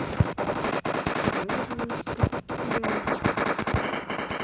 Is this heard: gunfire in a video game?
yes